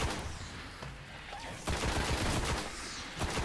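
Bursts of gunfire in Destiny, with sharp shots clustered into rapid volleys that swell, fall back and flare up again over a steady battle din, with no talking.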